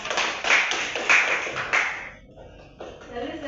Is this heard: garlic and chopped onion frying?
no